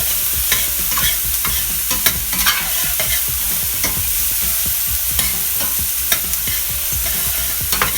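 Fried rice is stir-fried in a hot pan, with a utensil scraping and tossing in a constant irregular rhythm over a steady close sizzle and no talking.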